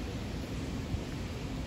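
Steady, dense hiss of heavy rain pouring down during a thunderstorm, a constant broadband wash with no voices over it.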